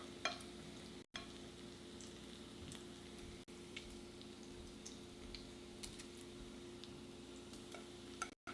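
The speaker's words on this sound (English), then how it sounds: "It is sizzling." Greasy food sizzles steadily in a pan while frying for a pizza night, with a continuous crackling hiss, occasional sharp pops and small utensil ticks, heard alone at low volume.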